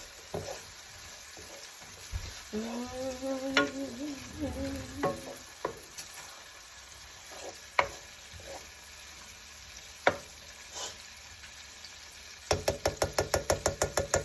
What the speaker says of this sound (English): Make sure you mix all the flavors in.